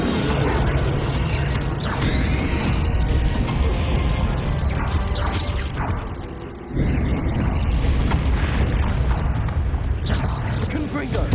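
Bombarda spell explosions in the video game Hogwarts Legacy erupt amid a loud, dense battle din of crashes and booms, briefly dipping near the middle before surging again.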